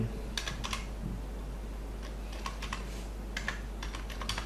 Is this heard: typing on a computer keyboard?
yes